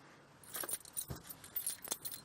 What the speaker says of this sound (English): I keep bumping my knee on my keys.